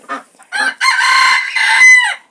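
Turkish broody hen clucking up close, two short clucks followed by a longer, rising, drawn-out vocal call, loud and alone.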